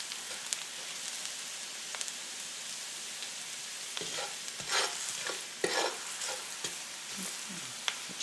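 A garlic and pepper mixture fries in a pan with a steady soft sizzle, while a utensil stirs it with scattered scraping clicks and taps, growing busier midway; no talk.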